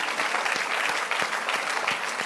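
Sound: church congregation clapping

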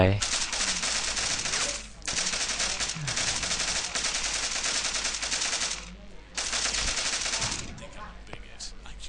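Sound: gun firing in the video game Postal 2

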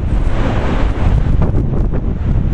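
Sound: wind blowing at Blackpool seafront

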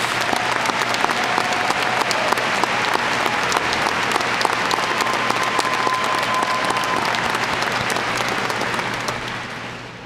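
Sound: graduation audience applause

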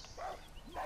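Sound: dog barking in video game Far Cry New Dawn

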